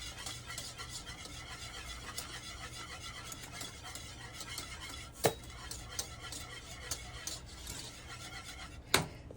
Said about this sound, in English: So add a half a cup and whisk them in.